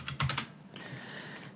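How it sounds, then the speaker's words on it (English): A quick burst of computer keyboard key presses while working in Unreal Engine, a few close, crisp clicks clustered together, followed by quieter faint room tone, with no voices. "and go to press R on the keyboard,"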